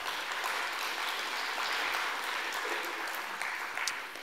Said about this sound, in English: You can give him a round of applause if you like.